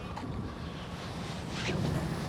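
Steady wind blows outside a grain silo, a continuous broadband rush that grows slightly stronger toward the end, with no voices.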